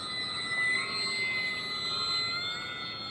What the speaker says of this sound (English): So it does take off quite easy and gears are up.